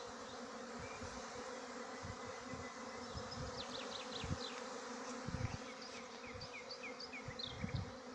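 Honeybees robbing a corner pallet of hives at an apiary make a faint, steady swarming buzz with occasional louder passes of single bees, and no voices.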